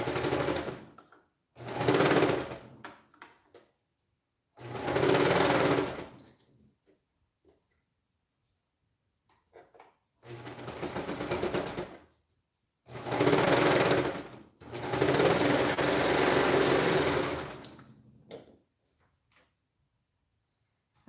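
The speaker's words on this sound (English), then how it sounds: "I just sit down and start serging" Serger sewing machine stitching fabric in short loud bursts of rapid whirring, with pauses of near silence between runs of a few seconds each.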